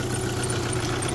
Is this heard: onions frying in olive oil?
no